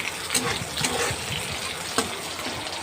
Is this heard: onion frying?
yes